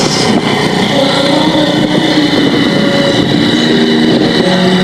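A motorcycle engine idles and revs steadily up close, a loud continuous buzzing drone with slight pitch shifts and no break across the whole stretch.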